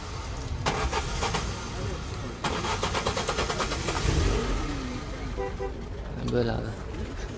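A Zhiguli car engine is started at a car market: it cranks and catches, then idles and revs roughly. People talk nearby and a pigeon coos in the background.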